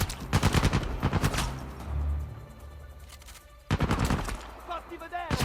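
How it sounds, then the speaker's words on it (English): Gunfire rattles in the action video game Uncharted 4, rapid bursts of shots in two loud volleys separated by a quieter gap. "I'm being shot at."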